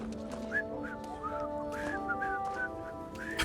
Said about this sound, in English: Why do you animate for just that whistle?